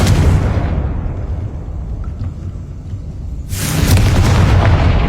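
Confringo, a fiery explosive spell cast in the Hogwarts Legacy video game, goes off as a loud, broad burst that fades into a low rumble before a second heavy blast roars in near the end.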